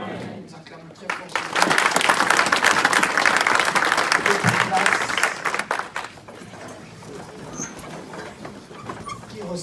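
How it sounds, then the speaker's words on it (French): A church congregation at a Sunday service applauds loudly, a dense burst of clapping that swells, holds for about four seconds and then fades into a quieter murmur. "Nous acclamons très fort."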